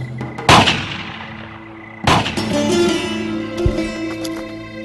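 Two sharp gunshots ring out a couple of seconds apart during a raid in a TV film, loud with echoing tails, followed by a faint low rumble.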